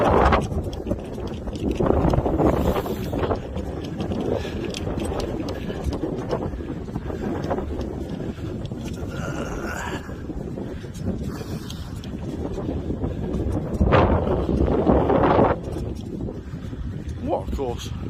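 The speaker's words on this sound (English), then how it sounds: "It's a bit breezy." Strong, gusty wind buffets the microphone on an open golf course, a steady low rumble with louder surges around the start and the middle of the clip.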